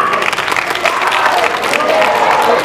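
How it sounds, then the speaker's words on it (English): A graduation-night crowd at a hypnotist show applauds: loud, continuous clapping from many hands, with some voices mixed in, steady from start to finish. "All right, by a round of applause,"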